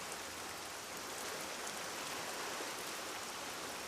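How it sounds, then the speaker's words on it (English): Steady, dense hiss of rain falling at Rurutu, even and continuous throughout with no voices. "It's been raining for days."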